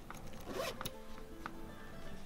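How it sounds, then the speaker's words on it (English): A fabric zipper on a loveseat section cover is pulled closed in a couple of quick, close rasping strokes, with no talk. "we're going to zip up our section"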